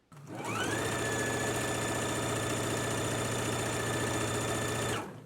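A sewing machine stitches around a pants pocket, starting up and running in one smooth, even, close mechanical whir for about four and a half seconds before stopping abruptly.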